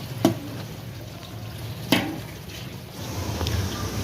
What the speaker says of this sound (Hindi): प्याज़ों को हमने ब्राउन होने तक अच्छे से फ्राई कर लेना है